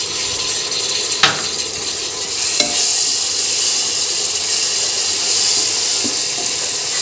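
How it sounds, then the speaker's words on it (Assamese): Chopped tomatoes stirred into frying spices in a pan while making spiced black chickpeas, with a steady close sizzle and a few sharp scraping spoon strokes. "এতিয়া আমি কাটি থোৱা বিলাহীখিনি দি দিছোঁ"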